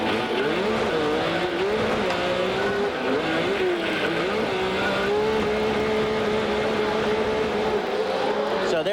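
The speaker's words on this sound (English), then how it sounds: "You got a great sound of that motor" The engine of a Chevy race truck in 1994 Grand National Sport Truck racing at Las Vegas, heard on board as a loud continuous roar that rises and falls slightly with revs, filling the whole stretch without pause.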